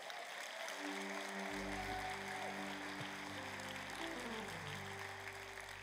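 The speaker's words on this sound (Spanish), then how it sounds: "Dale un aplauso a Cristo." A church congregation applauds in a soft, continuous patter of many hands, with sustained keyboard or organ tones playing underneath.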